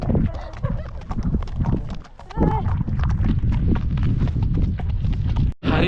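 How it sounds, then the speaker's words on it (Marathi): Horse hooves clip-clop in a quick, even rhythm during a ride at Mahabaleshwar, close and loud under steady rumble, with brief voices and a sharp knock near the end. "हरिता एकदम सोलो राईड करते घोड्याबरोबर."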